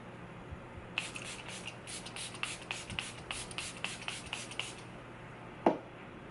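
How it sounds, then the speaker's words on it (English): A Milani Make It Last setting spray misted onto a face gives a quick series of about a dozen short, airy spritzes in steady rhythm, close and soft, with no talk. "I'm gonna set my face with this Make It Last setting spray by Milani"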